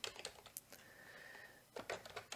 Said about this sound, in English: I'm going to come into this record and I'm going to start typing William